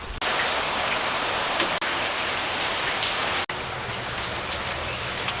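Rain falls in a dense, steady wash, likely heard from a shop front, loud and close with a constant hiss broken by a couple of brief dips.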